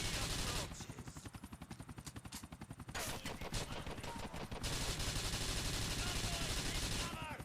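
Automatic gunfire in the video game GTA 4: The Ballad of Gay Tony, a loud, rapid string of evenly spaced shots followed by heavier, denser bursts and explosions-like roar, with voices shouting amid the fighting.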